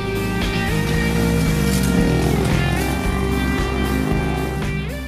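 A Bullit Hero 125 scrambler with an air-cooled, two-valve single-cylinder engine rides along, its loud, steady engine drone rising and falling slightly in pitch throughout, with no voices.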